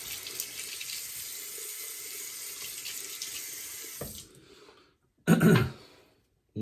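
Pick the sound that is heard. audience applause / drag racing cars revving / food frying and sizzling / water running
water running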